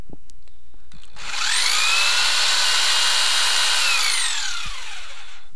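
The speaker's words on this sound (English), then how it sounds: "So let's run this drill and see what happens." A power drill whirs up to a high steady whine, holds for a few seconds, then winds down; close and loud, with no talking.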